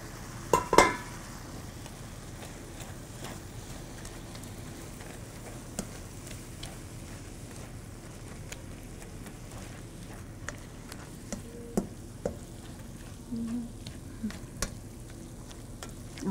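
Ground meat for three-bean chili browns in a pot, giving a quiet, steady sizzle with a few scattered clicks and scrapes of a utensil against the pot, and no one talking.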